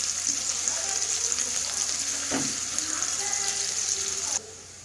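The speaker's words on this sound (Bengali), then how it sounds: "পেঁয়াজটা ভাজা হয়ে গেছে, ভালোভাবে দেখতে পাচ্ছেন একটু লাল লাল হয়ে এসেছে।" Sliced onions, one and a half medium ones, frying in oil in a pan make a steady broadband hiss that runs close and even for most of the clip and then drops abruptly near the end.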